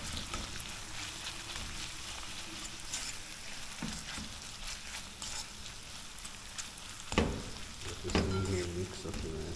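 Chopped beef fries in a pot for Jamaican country cooking, crackling and sizzling steadily up close, with a few louder stirring knocks toward the end.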